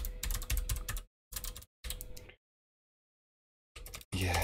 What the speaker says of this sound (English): Yes, Scott, typing.